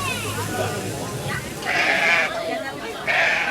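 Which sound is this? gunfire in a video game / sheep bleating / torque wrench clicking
sheep bleating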